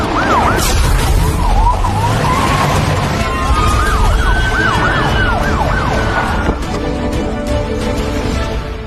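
A loud wailing siren sweeps up and down repeatedly over heavy traffic rumble, close and continuous throughout.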